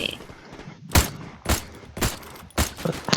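Gunfire in the mobile shooter Free Fire: four loud, sharp bursts about half a second apart, each a broad crackling blast, with faint mechanical clatter between them.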